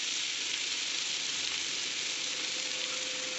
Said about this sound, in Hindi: अभी डालेंगे ये करी पत्ता